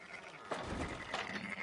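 A sheep in the video game Red Dead Redemption 2 gives a couple of short, moderately close bleats over soft background ambience, with no speech.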